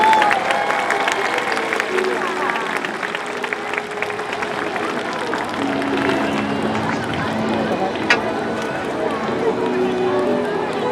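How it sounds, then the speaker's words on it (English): An audience at a SeaWorld San Diego orca show applauds in a steady wash of clapping and crowd noise, with an announcer speaking over it throughout. "one last round of applause for Kalia."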